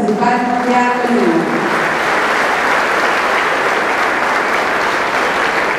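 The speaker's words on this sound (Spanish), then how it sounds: "Recibimos un fuerte aplauso" Strong, steady audience applause in a hall at a government report ceremony, dense continuous clapping with a brief voice or tone fading at the start.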